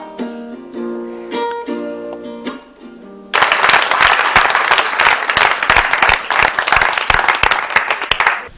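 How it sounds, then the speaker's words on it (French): A theatre audience applauds a Burkinabe storyteller in a long, loud wave of dense clapping that bursts in abruptly after a few seconds of tonal music. "Tonnerre d'applaudissements pour Doueslik"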